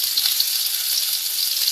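Ready-made meatballs fry in a pan, a steady loud hissing sizzle with faint pops, close by and with no voices.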